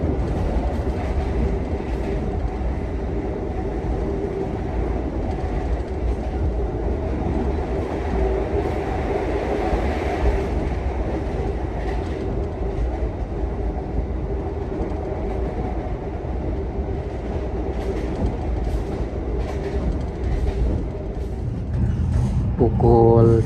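The Menoreh passenger train rumbles and clatters steadily on the rails throughout as it arrives at Tegal station at night, a heavy continuous roar with a short tonal sound rising near the end.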